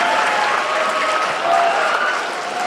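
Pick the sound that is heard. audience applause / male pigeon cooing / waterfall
audience applause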